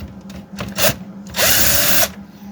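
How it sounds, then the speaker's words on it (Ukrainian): Battery screwdriver backing screws out of a STIHL MS180 chainsaw: short whirring bursts, then a longer sustained high motor whine about half a second long, close by with no talk. "я користуюся шуруповертом"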